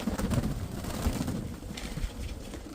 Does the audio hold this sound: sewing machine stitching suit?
no